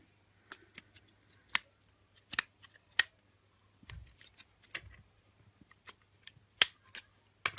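A series of small, sharp plastic clicks and snaps from a fire alarm detector's faulty mechanism at irregular intervals, close up, with faint handling noise and a low hum underneath.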